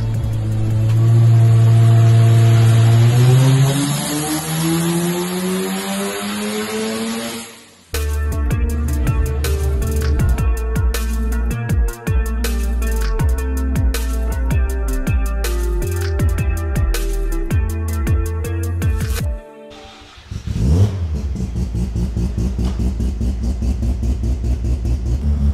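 Mazda 323 street car with a turbocharged 13B rotary engine, loud and close, revving up in a rising pitch sweep, then a harsh buzzing rev held for several seconds, a brief drop, and another aggressive rev burst.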